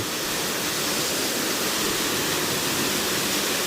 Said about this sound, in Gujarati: મોટર આપણે ચાલુ કરી દીધી છે